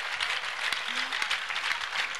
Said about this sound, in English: Big clap offering to Jesus.